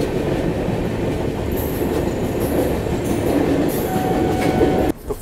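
Tirumala Express crossing the roughly 3 km Godavari rail-cum-road bridge at night, a loud, steady rumble of wheels and carriages that roars on throughout and drops off abruptly near the end.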